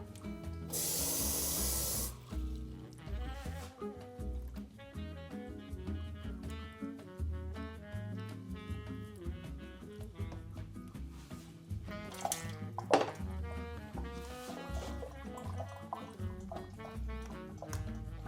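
A brief hissing spray of water onto soil in a seed tray at the start, followed by softer trickling and dripping as water soaks in, amid other background sounds.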